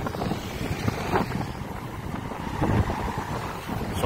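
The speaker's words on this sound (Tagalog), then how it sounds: "So makusog ang hangin." Strong wind buffets the microphone in a continuous low roar with gusty swells at the Dungon Creek Esplanade in Iloilo City, Philippines, no voices heard.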